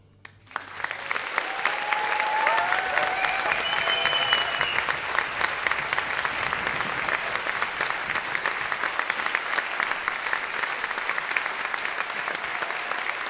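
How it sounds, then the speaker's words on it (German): An open-stage concert audience at the Roxy in Ulm breaks into sustained applause, with the clapping swelling quickly and holding steady, plus a few faint whistles and cheers. "Euer Applaus!"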